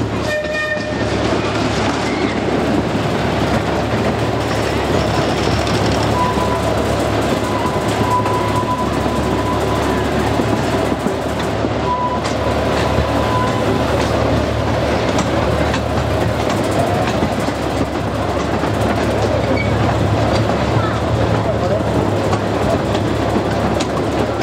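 Big Dipper roller coaster train at Blackpool Pleasure Beach running along its track, a steady loud rumble and clatter lasting throughout amid busy amusement-park ambience, with faint talk in the background.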